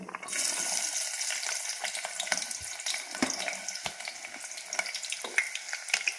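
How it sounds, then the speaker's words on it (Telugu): Four large chopped onions fry in hot oil for a gongura boti curry, giving a close, continuous sizzle with crackles and occasional stirring clicks. "ఉల్లిపాయలు వేసేసుకున్నాను."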